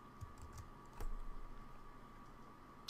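Soft, close computer keyboard typing while code is entered, a quiet run of light clicks with one slightly louder tap near the middle and no talking.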